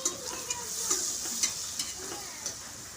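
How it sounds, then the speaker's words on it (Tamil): Tomatoes and masala sautéing in a pan for vegetable biryani, a steady low sizzle with soft stirring scrapes recurring every half second or so, close and fairly quiet, no talking. "தக்காளியும் நல்லா வதக்கி எடுத்துக்கோங்க."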